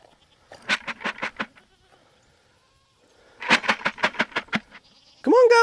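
Goats on a farm bleat in two rapid bursts of repeated calls separated by a quiet gap, close and clear, with a louder sound starting at the very end.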